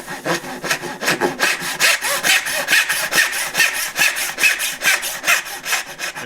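Hand saw working through wood for dovetails, brisk back-and-forth rasping strokes in an even rhythm, close and prominent, with nobody speaking.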